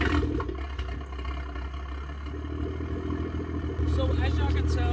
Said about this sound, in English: So as y'all can tell, this is valves open. Idles very nicely and loud.